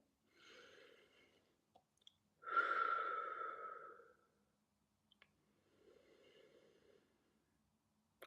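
Close, clear breathing during a plus-size holiday stretching routine: a soft inhale, then a long, louder exhale, then another gentle breath, each set apart by silence.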